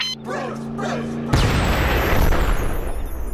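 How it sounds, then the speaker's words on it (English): A glittery cartoon explosion from Regular Show bursts loudly and fills the rest of the clip with sustained crackling noise, following a short stretch of voices and tonal sound. "Skips and Benson execute the unicorns via a glittery explosion."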